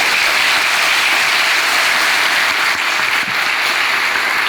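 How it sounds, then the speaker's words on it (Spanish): A conference audience at a pest-control event applauding, a loud, dense and sustained wash of clapping that fills the room from start to finish. "le damos un fuerte aplauso"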